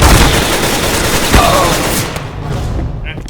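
Gunfire in Counter-Strike: Global Offensive, a loud dense burst of overlapping automatic shots and impacts that tapers off toward the end, with distant game noise underneath.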